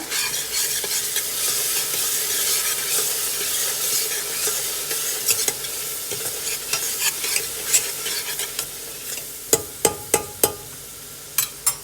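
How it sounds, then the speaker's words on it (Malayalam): Garlic sizzles in melted butter in a pan while a spoon stirs it steadily for garlic butter rice, with sharp metallic clinks of the utensil against the pan growing more frequent near the end. "നന്നായിട്ട് ഇളക്കുക"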